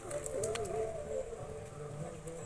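Birds call outdoors in a cool, leafy spot, with a soft dove-like cooing phrase up close and a few faint chirps around it.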